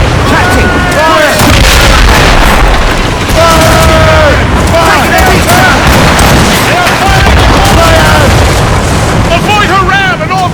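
Ship cannons boom repeatedly in a naval battle in Assassin's Creed Rogue, loud heavy blasts over constant roaring battle noise, with shouting voices mixed throughout.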